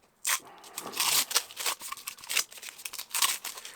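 Tape is peeled off a painted Dalek figure in short, crackly ripping bursts, close and fairly quiet, coming in quick irregular pulls.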